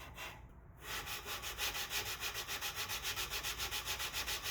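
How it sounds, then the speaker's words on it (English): Steady rhythmic rubbing of sandpaper on a wooden template, close up, with even back-and-forth strokes and no talking. "Well, it needed a little sanding."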